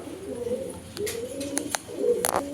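A pair of Syrian Adana dewlap pigeons coo in low, rolling, repeated calls, close by, with a few sharp clicks and rustles between the coos.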